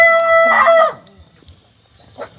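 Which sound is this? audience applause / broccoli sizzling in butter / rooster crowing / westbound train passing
rooster crowing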